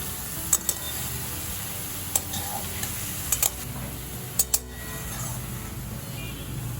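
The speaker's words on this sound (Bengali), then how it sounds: "এবার শাকটা আলুর সাথে একটু ভালো করে ভেজে নেব" Fenugreek greens and potatoes fry in a pan, a steady sizzle under sharp clicks of a spatula scraping and stirring against the pan at irregular intervals.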